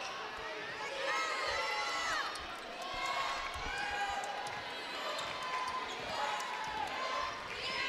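A basketball thumps in steady rhythm under a loud, cheering crowd at a high school game between the Connally Cadets and Lorena Leopards as it is dribbled up the court, with voices and sneaker squeaks mixed in.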